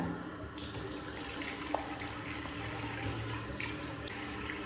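Tap water runs steadily at a sink during face washing in a home, a broad continuous rush at moderate level with a few small splashes and no talking.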